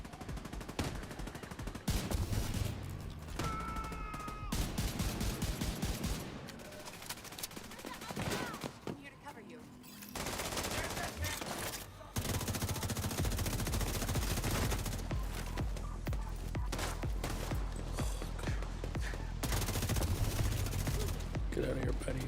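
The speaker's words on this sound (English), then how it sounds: "It's like random bullets hitting me." Rapid bursts of automatic gunfire and bullet impacts crackle through a Division 2 firefight, loud and close in repeated volleys, with a voice talking over parts of it.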